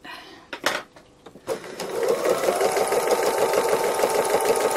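After a few scattered clicks and handling knocks, a sewing machine starts up for free motion embroidery on a cow design and runs in a continuous, fast, fairly loud buzzing whir to the end.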